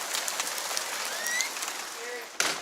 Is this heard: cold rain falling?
yes